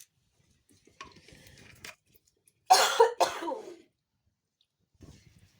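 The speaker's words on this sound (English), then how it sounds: "I'll edit those coughs down" Two or three harsh, throaty coughs burst out close to the mic in a quiet room during a UV resin session, after some soft faint rustling and before light clinking.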